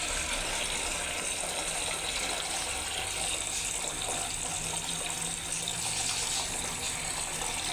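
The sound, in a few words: water tap filling a container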